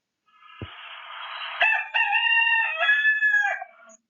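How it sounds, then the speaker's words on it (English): A single rooster crows loudly and close by, one long drawn-out cock-a-doodle-doo lasting a few seconds, with nothing else around it. "So it is called crow. Roosters crow."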